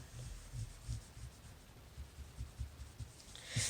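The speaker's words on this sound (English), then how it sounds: "I'm going to erase my dotted line" A rubber eraser rubs out a pencil dotted line on paper in quick, soft back-and-forth scrubbing strokes, faint and close, with no voices.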